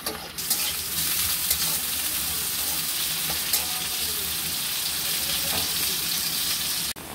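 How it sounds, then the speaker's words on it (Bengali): Sliced onions fry in hot oil in a kadai, a steady loud sizzle running unbroken for several seconds with faint scrapes of stirring and no voices. "এখন পেঁয়াজগুলোকে ভেজে নেব।"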